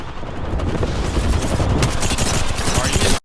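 Rapid automatic gunfire in Apex Legends, with Lifeline's weapon firing steadily for about three seconds, loud and dense with a bright crackle and overlapping shots.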